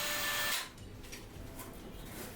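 Power drill fitted with a mixer paddle, whirring loudly for half a second before dropping to a quieter, uneven churning as it stirs joint compound, close by with no talking.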